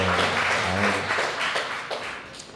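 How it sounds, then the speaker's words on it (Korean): Church congregation at a Sunday worship service clapping in encouragement, a brief dense burst of applause filling the hall and tapering off within a few seconds. "우리 격려의 박수 한번 할까요?"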